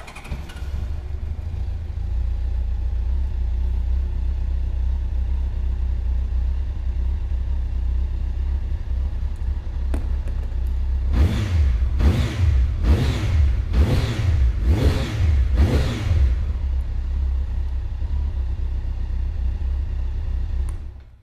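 A 1990s Honda CBR1100XX Super Blackbird motorcycle engine runs with a steady low idle, then revs up in a series of sharp throttle bursts before settling back to idle.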